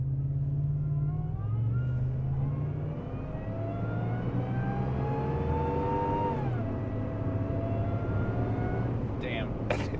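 A 700 HP 6.2L Ford Raptor roars close by under hard acceleration as its tires spin, the engine note climbing and shifting steadily, with voices talking over the loud, continuous rumble.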